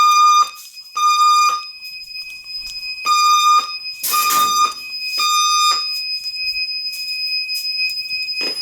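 A loud electronic fire alarm sounds from a fire alarm speaker box in repeating bursts of high, piercing tones with short gaps, continuing steadily throughout.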